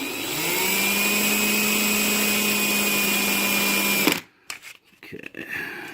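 A power drill whines steadily at high pitch for about four seconds, boring a hole into a 2018 Polaris RZR Turbo XP 4 side-by-side, then stops abruptly, followed by faint handling clatter.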